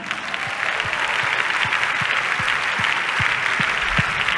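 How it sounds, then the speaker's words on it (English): A church congregation claps together in time, a loud, full crowd of hands with a steady rhythmic beat of about a dozen emphasized claps, continuous and close with no talk on top. "Clap your hands 12 times"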